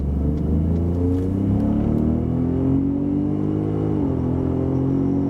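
A truck engine pulls hard after a shift into second gear, its rumbling note climbing steadily in pitch as the vehicle gathers speed, loud and close throughout with no talk.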